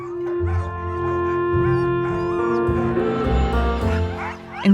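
Husky sled dogs whimper and whine on a farm, a close chorus of high yips and drawn-out howling whines overlapping continuously, with a sharp bark at the end, no talk.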